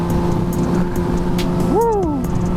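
A 600cc motorcycle engine holds a steady droning hum, then revs sharply up and drops back down in one quick swell near the end.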